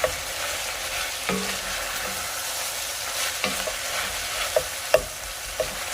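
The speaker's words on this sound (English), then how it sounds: "You want to really cook that andouille sausage and get that really nice browned and sauteed." Andouille sausage sizzles in a hot pan while a spoon stirs and scrapes it at intervals, a constant frying hiss broken by several sharp clicks and knocks, with no talking.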